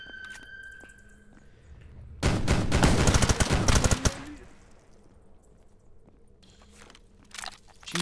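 Rapid automatic fire from an MP7 submachine gun in a video game raid on the Chernobyl nuclear power plant: one loud, dense burst lasting about two seconds, with quieter game ambience before and after.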